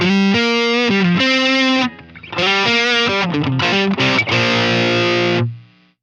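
Electric guitar played through a Line 6 Helix compulsive drive pedal with a boost, loud and crunchy, with strummed chords and quick note runs, a brief dip midway and a final chord left to ring out.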